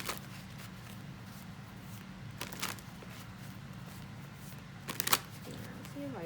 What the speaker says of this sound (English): let's go ahead and pull some cards for advice